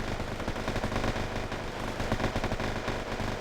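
Napalm fire burning across a forest in Wargame Airland Battle, a dense, constant crackling roar with rapid popping bursts throughout, loud and unbroken.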